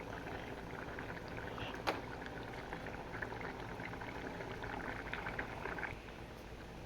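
Mushroom thiyal curry bubbling in a pot on the stove, a steady close simmer of popping bubbles and gurgles with a few sharper pops, no talking.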